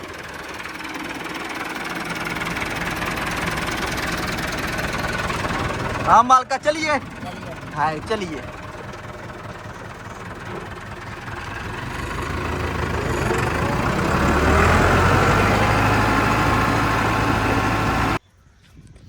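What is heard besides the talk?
tractor engine running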